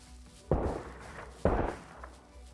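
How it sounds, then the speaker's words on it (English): Two distant gunshots crack out in the survival video game SCUM, about a second apart, each a sharp thump with a short rumbling tail over a quiet background. "I can already hear gunshots."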